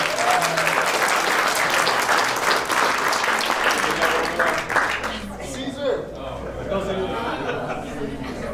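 Wedding guests give a big round of applause, loud and close at first, then taper off after about five seconds into murmuring chatter and light laughter.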